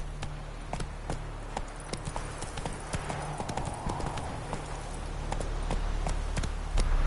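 Roach the horse gallops in The Witcher 3, hooves clip-clopping in a steady rapid rhythm throughout, close and fairly loud over a low game ambience, with a brief whinny possible.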